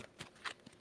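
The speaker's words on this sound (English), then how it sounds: "2 shuffles." A deck of tarot cards is shuffled by hand in a few soft, quick riffling bursts, quiet and close with faint background hiss.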